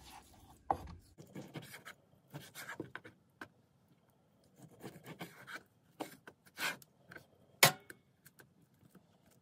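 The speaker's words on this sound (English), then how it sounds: "I could probably cut this in half and then start slicing our pieces." Knife slicing raw goose meat for jerky, a series of soft scraping, rasping cuts at close range with quiet pauses between strokes.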